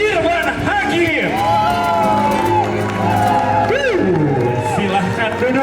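Studio audience cheering and whooping for guests Panji Petualang and Irfan Hakim, a loud, steady crowd roar with scattered shouts and excited voices throughout.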